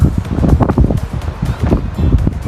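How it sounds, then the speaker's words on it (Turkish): Wind gusts through a lush green forest near a waterfall in Köyçeğiz, roaring steadily and close against the microphone in uneven, buffeting surges with no voices. "Şu anda da güzel bir rüzgar var."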